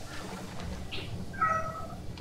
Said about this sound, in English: A cat that doesn't know what she wants.